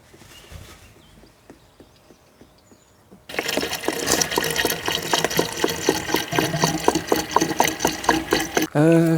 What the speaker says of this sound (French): Et je vais pouvoir remettre en huile là, puis démarrer.